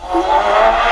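A Suzuki Swift car fitted with a Kawasaki motorcycle engine revs hard and loud, a sustained high-pitched whine climbing steadily with no pause.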